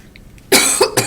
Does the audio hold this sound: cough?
yes